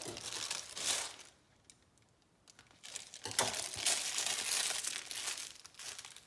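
A plastic icing piping bag for fall cookie decorating is shaken and crinkled, then snipped, giving close, soft rustling bursts separated by a short quiet gap.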